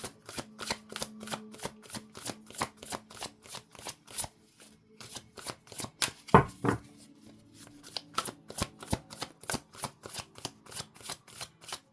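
A deck of tarot cards is shuffled close up in a long, steady run of crisp riffling bursts, with a brief louder clack midway and no talking.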